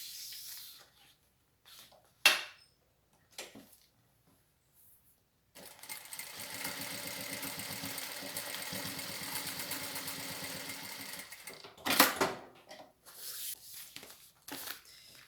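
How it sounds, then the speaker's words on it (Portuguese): A sewing machine stitches a single seam along the edge of fabric for a toilet paper holder. Its steady mechanical whirring runs for about six seconds between quieter handling noises, with no talk. "E faz uma costura só na beiradinha."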